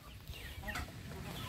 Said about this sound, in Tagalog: Mga manok nating alaga rito.